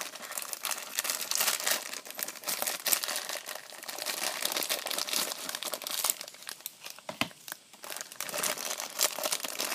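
Steady crinkling and rustling of plastic packaging, close and continuous, with small snips and crackles as it is worked open.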